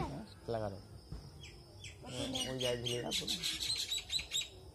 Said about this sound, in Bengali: সব পাখি, বুলবুলি পাখিও হাজির